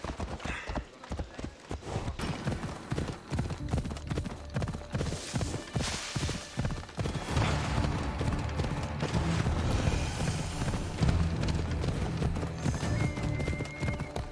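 Steady clip-clop of a horse galloping in Assassin's Creed Odyssey, hooves pounding rhythmically and close with a brief whinny, carrying on for several seconds over game ambience.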